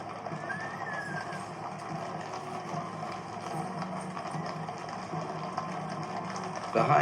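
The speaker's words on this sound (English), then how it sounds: "Some of the horses, understandably, a little restless at this long, slow walk" Horses in a slow funeral procession for Queen Elizabeth II clop along at a distance, their hoofbeats soft and steady beneath a murmuring crowd.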